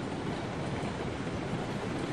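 A train rolling along in the video game Railroads Online, a steady, loud, broadband rumble and rush that holds evenly throughout with no voices.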